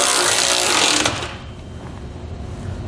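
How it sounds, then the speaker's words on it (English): A 19mm socket tightens base plate bolts on a Roadmaster Direct-Connect base plate kit, giving a loud, continuous mechanical whirr for about a second that then drops to a low rattling hum. "We're going to use a 19mm socket."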